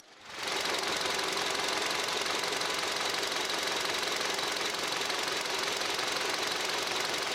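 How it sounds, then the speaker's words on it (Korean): A Hyundai YF Sonata LPG sedan engine starts up and then idles steadily, a smooth, even hum and rattle heard up close, with no voices. "나가서 엔진 소리 들어보도록 하겠습니다"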